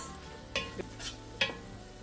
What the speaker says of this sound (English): I'm going to fry my onion for about 2 minutes.